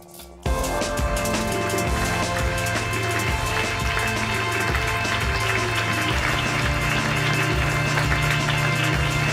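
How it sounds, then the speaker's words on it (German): A dense, steady wash of audience applause follows the introduction of Dirk Stermann at a live literature stage show. It starts abruptly and holds for about nine seconds, with some background music underneath. "Großen Applaus für Dirk Stermann!"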